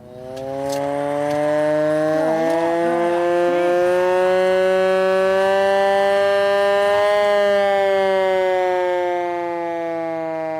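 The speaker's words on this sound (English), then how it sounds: "It's a blitz siren." A loud World War II blitz air raid siren wails continuously nearby, a steady sustained tone that rises slightly and then slowly begins to fall.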